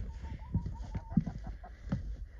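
Chickens clucking in short, soft bursts, with a few sharper calls among low background noise and faint rustling.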